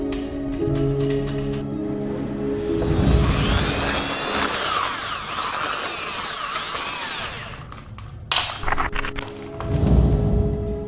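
A power drill bores into a wall, whining loudly with rising and falling pitch as it bites, pausing briefly, then grinding again, with clinks and thuds of the tool between bursts.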